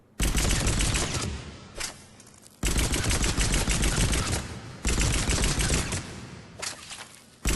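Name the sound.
Eagle pistol fired down the sights, video game Mass Effect 3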